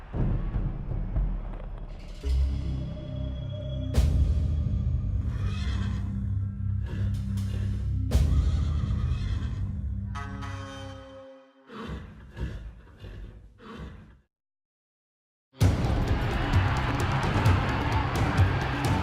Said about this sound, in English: The horses exploded from the starting ropes